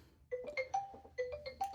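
A phone rings with a repeating electronic melody of short bright tones, faint and somewhat distant.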